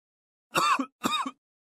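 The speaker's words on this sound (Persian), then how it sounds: "کمی سرفه می کنم Je tousse un peu" Two short, close coughs from one person in a staged doctor's-office scene, evenly spaced about half a second apart, each a brief dry burst, with silence around them.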